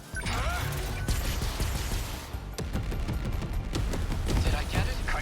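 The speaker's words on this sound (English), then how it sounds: "Long range missiles." Long-range missiles fire in the video game 13 Sentinels: Aegis Rim, a dense, loud barrage of blasts and crashing impacts that rolls on without pause.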